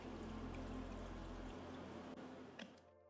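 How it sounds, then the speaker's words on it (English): Vinegar poured over old metal dresser hardware from a thrift store vintage dresser, a continuous close liquid stream that runs steadily, then thins and stops near the end with a faint clink. "Normally I just pour the vinegar all over the hardware"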